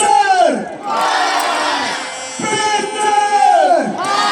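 Huge crowd at Planica ski jumping hill roaring a call-and-response thanks to ski jumper Peter Prevc, loud massed voices swelling in repeated waves across the open arena.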